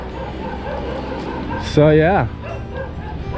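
A dog at a rental house in Dumaguete City, Philippines barks at strangers, one loud, close bark with a rising and falling pitch standing out over background noise, with brief talk just before.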